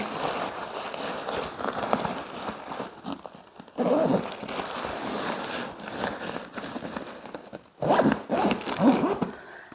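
The zipper on a pop-up tent's fabric door is drawn along in repeated scratchy pulls, close and fairly loud, with brief pauses between strokes and rustling of the tent material.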